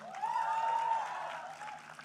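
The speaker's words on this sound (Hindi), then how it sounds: "जरा मुंह में फंसाओ और ताली बजाओ एक बार जोरदार" An audience claps at a press conference introducing Anil Kapoor as the new host of Bigg Boss. A brief, moderate burst of applause rises quickly and tapers, with a thin sustained tone riding above it.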